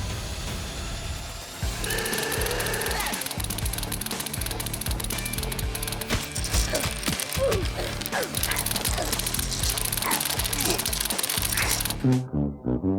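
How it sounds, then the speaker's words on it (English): LEGO spring-loaded shooters release their darts together, a dense burst of plastic clicks and snaps after a quiet start, then rattling clatter that stops abruptly near the end. "after loading all the darts, we're finally ready to fire them all at the same time"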